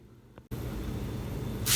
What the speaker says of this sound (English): you're just going to spray down the area you'll be working on with soapy water and clean it real good